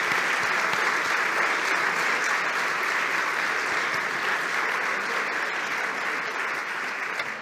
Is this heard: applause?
yes